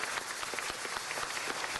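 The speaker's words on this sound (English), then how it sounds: "Give them a round of applause" A round of applause at a city council meeting, dense steady clapping from a crowd, fairly faint and brief, with no talking over it.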